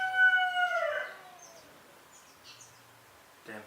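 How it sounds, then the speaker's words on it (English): Chickens calling near the start, a loud rising squawk that fades after about a second, followed by faint scattered chirps and a brief burst at the end. "Damn chickens."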